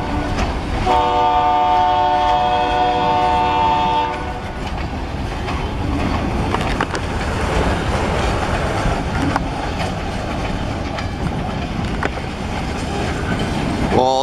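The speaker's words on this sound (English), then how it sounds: "Early morning train today." An early morning train passes on a remote rural railroad, opening with a loud sustained horn blast, then the steady rumble and clickety-clack of railcars rolling by close and continuous.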